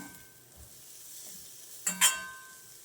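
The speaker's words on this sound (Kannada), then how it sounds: "ಈಗ ಇದನ್ನು ಹಾಗೆಯೇ ಫ್ರೈ ಮಾಡ್ಕೊಳ್ಳೋಣ." Drumstick leaves frying in a hot pan with the heat turned off, a faint, low sizzle that ends in two quick metallic scrapes or clinks near the close.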